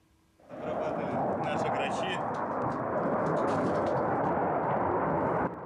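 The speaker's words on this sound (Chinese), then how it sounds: "显示俄罗斯的苏-25攻击机在巴赫穆特上空呼啸而过" Russian Su-25 attack aircraft roars low over the Bakhmut battlefield as a loud, sustained jet rumble that starts abruptly and holds steady for several seconds.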